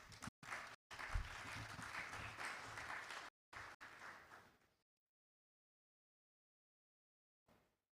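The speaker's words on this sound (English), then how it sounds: "A round of applause for her, please." An audience at an African actuarial congress applauds, a steady clapping crowd broken by abrupt cuts before fading out, followed by silence and a brief faint sound at the end.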